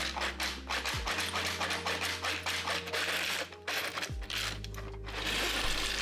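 Metal bolts clatter and rattle through a 3D printed screw sorting device, with a dense run of small tinny clinks and ticks close by and a couple of motor hum shifts underneath.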